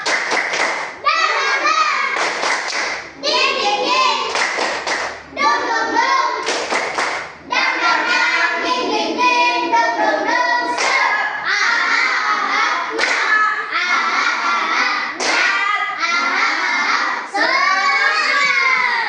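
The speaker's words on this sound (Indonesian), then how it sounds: "Sebelum presentasi kita tepuk semangat, lebih semangat." A classroom of children performs a rhythmic spirit clap in bursts, loud sharp hand claps in patterned sequences mixed with chanting young voices, pausing briefly between rounds before starting again.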